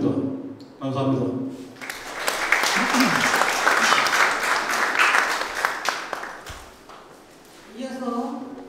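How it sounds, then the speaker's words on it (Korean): Audience applause at a Korean pastel art association exhibition and award ceremony, a steady wash of clapping that swells for several seconds after a speaker finishes, with talking before and after. "모든 작가분들께 다시 한번 축하와 응원의 박수를 보냅니다"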